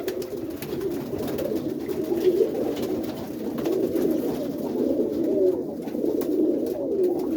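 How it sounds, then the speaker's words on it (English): Boston Ripper Roller pigeons coo steadily inside their coop, a dense overlapping murmur of soft, throaty calls close by with no speech. "Boston Ripper Rollers, back at the coop."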